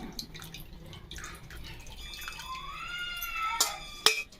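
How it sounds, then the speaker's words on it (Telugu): Thick tamarind pulp poured into a simmering fish curry, soft wet drips and splashes with a couple of sharper plops near the end, quiet and close. "మనం చిక్కగా తీసుకున్న చింతపండు గుజ్జుని ఇప్పుడు కూరలో వేస్తున్నానండి."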